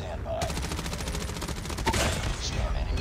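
Rapid hip-fire gunshots in Call of Duty Mobile crackle in a dense, fast burst through most of the span, with a louder shot near the end. A voice talks faintly underneath.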